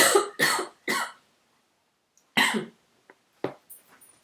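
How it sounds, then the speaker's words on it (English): A person coughs three times in quick succession, then after a pause coughs again with a few smaller throaty sounds trailing off. "I'm going to have to stop, have a cough."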